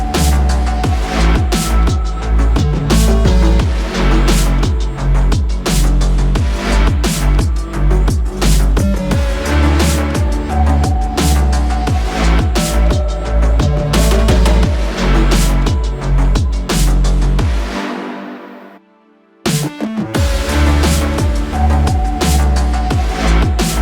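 A full pop song chorus produced in FL Studio 20, with loud, steady beat-driven music and strong bass, briefly dropping out near the end for a short filtered break before the full mix slams back in.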